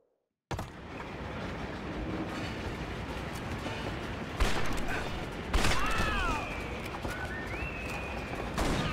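Riding a train in the Red Dead Revolver video game, a steady rumbling rolls on continuously with sharp bangs and a couple of metallic squeals rising above it.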